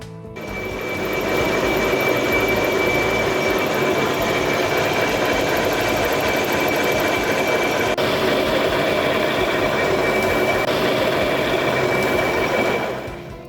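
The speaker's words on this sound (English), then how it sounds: "I'm going to do the head gasket surface in the lathe and get it to the right deck height" A lathe machines the head gasket surface of a prototype motorcycle engine, a loud, steady, close drone with a constant whine and faint ticking, starting and stopping cleanly at the ends.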